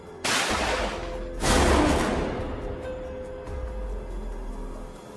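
A crashed, wrecked car explodes into fire, two heavy booming blasts a second apart followed by a lingering low rumble, no voices present.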